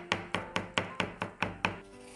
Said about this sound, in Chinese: 再准备几瓣大蒜和1块生姜，先把它拍扁，然后切成姜蒜末